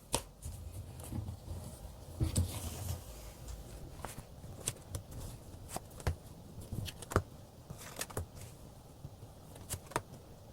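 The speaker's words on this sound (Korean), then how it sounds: "카드로 한번 뽑아보도록 할게요" Tarot cards are shuffled and drawn by hand: soft rustling with scattered sharp card snaps and taps. The sound is quiet and close, with no talking.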